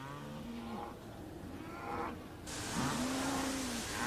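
Dairy cows on a farm low several times, a long moo early and another sustained one near the end, fairly close over steady outdoor background noise with no talk.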